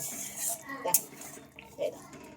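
Chicken bora curry being stirred in a pan, several scraping and clinking strokes of a utensil with soft wet bubbling, close by, under a voice speaking.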